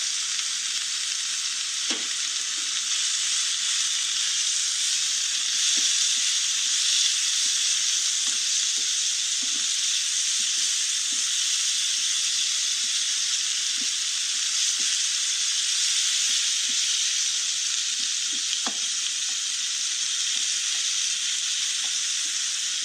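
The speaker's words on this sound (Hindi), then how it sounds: "कीमा थोड़ा सा भुन चुका है, अब इसमें हल्दी, गरम मसाला, नमक और काली मिर्च पाउडर शामिल कर देंगे।" Minced meat sizzles steadily in a pan with turmeric, garam masala, salt and black pepper added, giving a loud, continuous close frying hiss with occasional faint stirring knocks and no speech.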